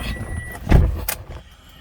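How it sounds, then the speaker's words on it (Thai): A 2011 Toyota Altis running on petrol only is started close by: a short whirring crank swells into a loud catch, then drops back to a quieter idle, with a brief high mechanical whine along the way. "เดี๋ยวผมติดเครื่องให้ดูนะครับ"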